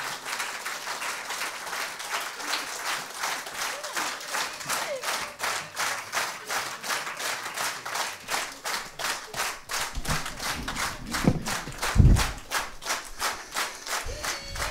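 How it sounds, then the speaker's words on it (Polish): A concert audience at a Solidarity with Ukraine event in Połczyn-Zdrój applauds warmly, a dense sustained wave of clapping from a crowd, loud and continuous, with a few thumps and shouts near the end. "dziękujemy wam za te gorące oklaski"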